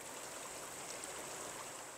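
Mountain spring water streams steadily near a glacier-fed meadow lake, a continuous rushing hiss close by with no voices, even and unbroken throughout.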